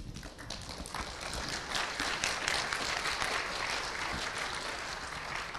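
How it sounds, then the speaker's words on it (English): A debate audience in a hall gives sustained applause, a dense, even wash of many hands clapping at moderate distance, with no talk over it. "Give Matt a hand of applause again"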